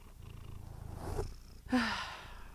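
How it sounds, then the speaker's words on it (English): A cat purrs close up with a low, steady rumble, then gives a sharp snort or short chirp near the end. "Typical cat, I guess. Yeah. I love you too, you great fuzzy lump."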